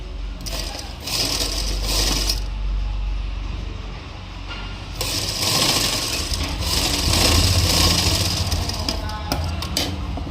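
A sewing machine stitching a cuff onto a sleeve, running in continuous mechanical rattling bursts with a brief slowdown midway, close and steady with no talking.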